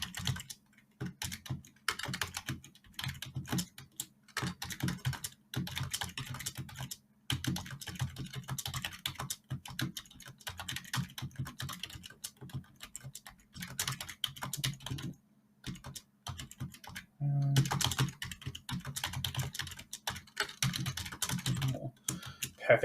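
Fast, continuous typing on a computer keyboard, close and dry, with rapid clattering keystrokes in long runs broken by brief pauses, no voices.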